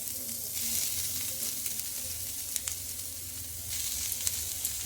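Picked fish pieces sizzle steadily in hot oil for crispy fish cutlets, a close, continuous frying hiss with occasional pops and stirring noises, no talking.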